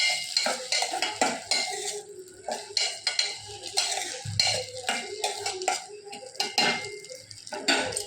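Egg rice being stirred in a pan, a close, repeated scraping and clinking of a spoon against metal in uneven rhythmic strokes, with a faint sizzle underneath.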